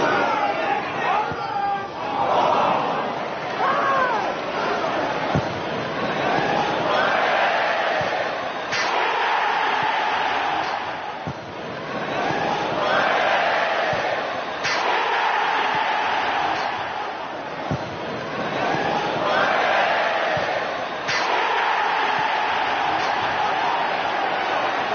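A football stadium crowd jeers and laughs at a player's touch, a dense roar of voices that swells and ebbs in waves, with sharp thuds breaking through at intervals.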